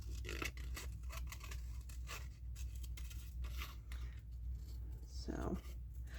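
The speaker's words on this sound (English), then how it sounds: "I'm going to cut out these cardinals and get them on." Scissors cut out paper cardinals for a journal, with short repeated snips and paper scraping close by, while a person talks over much of it.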